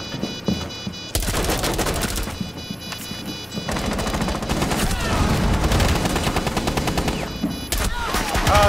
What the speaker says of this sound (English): They're shooting through the tiny slit.